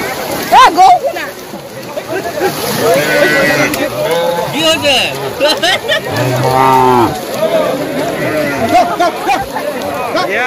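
Cattle moo repeatedly at a Goru Bihu festival cow-bathing in an Assamese village, the long lowing calls rising and falling among steady crowd chatter and voices.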